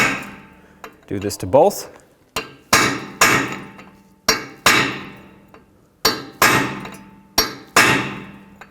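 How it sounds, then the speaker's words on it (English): A metal punch is struck against the brake rotor screws on a 2011-2014 Hyundai Sonata front brake job, giving a series of sharp, ringing metallic taps at irregular intervals. A short spoken phrase comes in near the start. "Take a punch or anything that you have that'll go flat on it and just give it a few taps."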